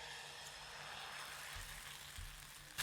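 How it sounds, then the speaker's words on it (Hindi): Puffed rice dosa batter poured onto a hot tawa over low flame, a faint, steady soft sizzle close by with no talk. "अब हम 1 लेडल बैटर यानी 1 कलछी बैटर सेंटर पे डालते हैं।"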